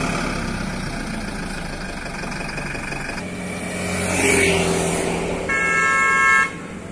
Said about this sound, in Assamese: চকুৰে মনিব নোৱাৰালৈকে খালি মাথো গাড়ী